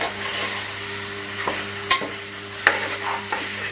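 Steady sizzling of chicken in a pan with a spoon stirring through it, a few sharper scrapes and knocks standing out near the end.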